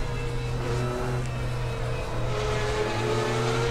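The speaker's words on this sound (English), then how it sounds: "this GTR GT3 does sound incredible" A Nissan GT-R GT3 race car engine in Assetto Corsa at Spa, with a sound mod, drones continuously at high revs, its pitch shifting slightly, steady and fairly close without any talking.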